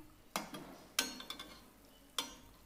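Sweet tikkis fry in hot oil, giving a faint, steady sizzle. A utensil strikes the pan in three or four sharp clinks at irregular intervals.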